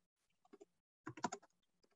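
Quiet keystrokes on a computer keyboard as a message is typed: a few light taps, a pause, then a quick cluster of clicks and a couple of trailing taps, close and soft with no talking.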